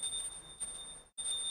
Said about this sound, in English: Take the bell in your left hand and start ringing the bell.